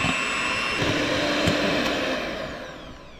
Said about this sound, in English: So we're gonna beat this until it's nice and frothy